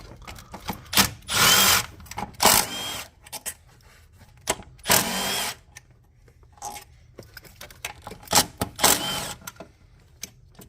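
A power drill whirs in short bursts while backing out the four bolts of a throttle body on a Kia Sedona 3.3L GDI engine, with clicks and clatter from the bolts and tools between the bursts.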